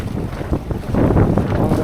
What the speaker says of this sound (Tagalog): Grabe, lakasan ng hangin.